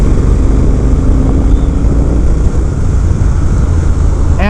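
Steady loud engine drone from a 2020 Triumph Speed Twin 1200 parallel-twin motorcycle at cruising speed, continuous low rumble with wind noise and no talk, ending in a brief rising tonal whine.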